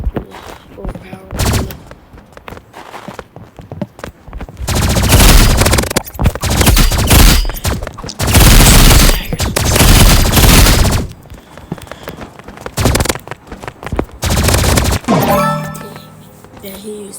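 Energy rifle fire in a video game, loud bursts of rapid automatic shots in long sustained volleys separated by short gaps, with some impacts and pings around them.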